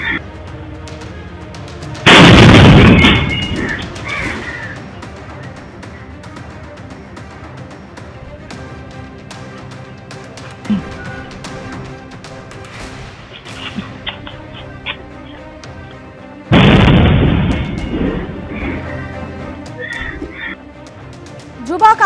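Two loud, sharp bomb blasts ring out at a night-time auto stand at 3 a.m., roughly fourteen seconds apart, each a booming burst that decays over a second or so above low ambient noise.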